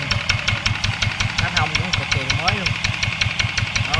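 Loud, even knocking from a nearby Yanmar SS60 diesel engine at a steady idle, with a voice briefly speaking over the running engine partway through.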